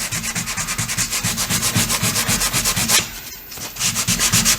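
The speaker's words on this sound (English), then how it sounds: "So I'm just going to give this a real nice sand down" A wooden baseboard trim joint is sanded by hand in fast, rhythmic back-and-forth scrubbing strokes, loud and close, with a brief pause before the strokes resume.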